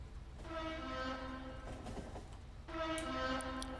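A train in the video game Factorio sounds two sustained harmonic horn blasts over a low moving-train rumble, the second blast starting after a short gap.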